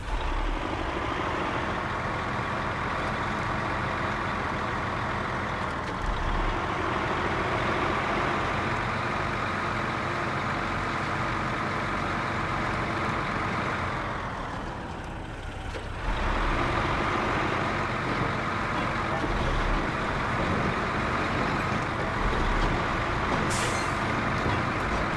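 A semi truck engine drones hard while climbing a hill in high gear in a video game, a heavy continuous rumble that briefly dips and strains midway before surging back, loud and close throughout.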